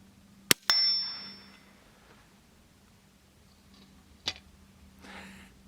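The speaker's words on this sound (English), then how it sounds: "That was me ringing the steel" .22 long rifle shots strike a steel target about 35 yards away outdoors in freezing weather. Sharp, faint cracks are each followed by a brief metallic ring, with two hits close together and a third a few seconds later.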